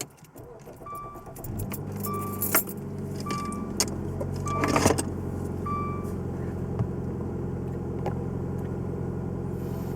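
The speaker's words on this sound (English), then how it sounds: "I'm gonna start the car." A car is started with its keys inside the vehicle: keys jangle and chime tones repeat while a steady engine rumble holds throughout, with a brief louder burst midway and no talk.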